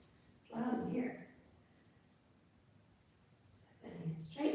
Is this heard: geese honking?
no